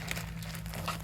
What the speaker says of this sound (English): a plastic bag for whatever, carrying things